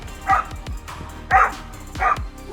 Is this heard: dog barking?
yes